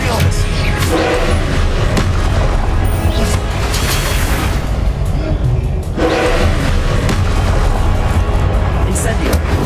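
Repeated booming blasts of the Confringo explosion spell in a Wizarding World video game, loud and continuous with heavy low rumble, while a voice calls out spells.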